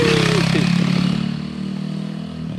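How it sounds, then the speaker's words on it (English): An Apollo RFZ 140cc pit bike engine running close by, revving then settling to a steady idle with a light clattering putter. "We got the little pit bike working."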